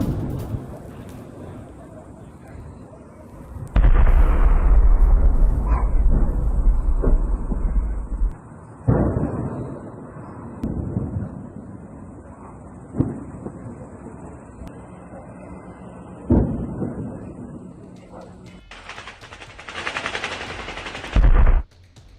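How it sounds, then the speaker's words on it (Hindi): Air defense system in the Russian city of Pskov firing at Ukrainian drones: bursts of rapid gunfire and sharp blasts echoing at a distance, several loud clusters separated by quieter stretches with wind noise. "डिफेंस सिस्टम से अब गोलियां दागी जा रही हैं।"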